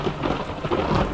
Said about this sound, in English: Another bolt lights up the world and a clap of thunder follows.